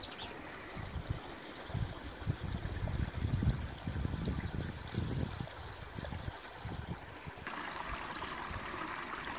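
Water pours steadily from a small waterfall in a forested mountain setting, a continuous broadband rush with gurgling low splashes, moderately loud and close, with no talking.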